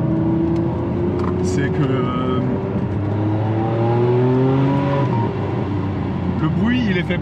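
A Ferrari 599 GTB fitted with an X-pipe exhaust and short springs drives along, its engine droning and rising and falling in pitch from inside the cabin while people talk over it.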